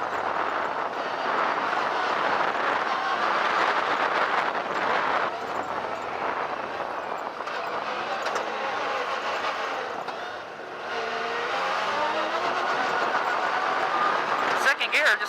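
A Yamaha YXZ1000R side-by-side drives on a dusty dirt road in third gear, its engine a steady loud drone with wind and rumble throughout, holding a fairly constant level with a brief dip midway.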